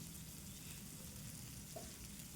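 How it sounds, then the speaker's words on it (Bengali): Tomato and pumpkin fry in a pan with a low, steady sizzle, faint and even throughout, ending in a brief louder knock. "ঠিক এইভাবে ভেজে নিতে হবে"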